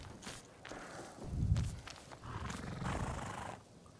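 Game horse from Ghost of Tsushima, a black horse, snorting and stamping with a low roar-like burst near the middle and hoof-like thuds, moderately close over a busy game soundscape.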